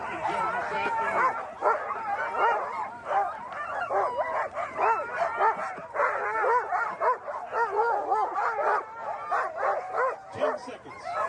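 Sled dogs at the start of the Kuskokwim 300 race yip, bark and whine continuously in an excited chorus, with rapid overlapping cries heard from nearby; faint human voices mix in with them.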